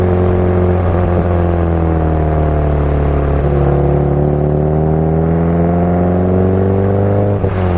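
A car's engine hums and pulls steadily during a road test drive, a loud sustained drone with rising and falling pitch as it accelerates, continuous throughout with no talking.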